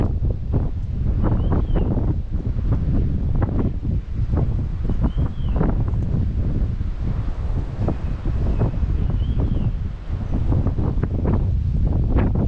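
Strong storm wind roars and buffets the microphone outdoors while a kite is flown in the rain; continuous loud gusting with rustling runs throughout, with no voices.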